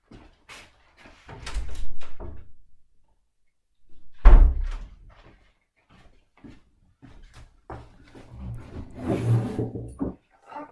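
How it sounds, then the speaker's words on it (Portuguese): A house door is opened to let a cat in, with scattered thumps, footsteps and a heavy clunk of the door midway, then more handling noises and rustling in a quiet room. "vou interromper um bocadinho para abrir ali a porta ao meu gato"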